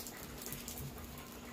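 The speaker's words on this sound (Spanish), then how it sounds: "Me está cayendo lluvia ahí en los pies." Rain falling at night during heavy rain, a steady, dense hiss of drops hitting surfaces, continuous and fairly faint with no talking.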